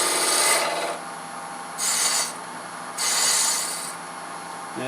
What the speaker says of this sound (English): a spindle gouge to actually turn that bead